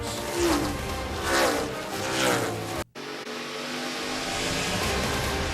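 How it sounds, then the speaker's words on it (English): ARCA Racing Series stock cars race at Lucas Oil Raceway near Indianapolis, loud engines roaring and swelling as they pass close by, then a sudden cut to a steady, continuous race-engine drone. "Grant Enfinger back out in front again in the ARCA Racing Series"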